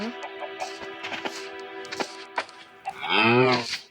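A Minecraft cow moos briefly near the end, a low drawn-out call after a stretch of steady electronic background tones and soft clicks.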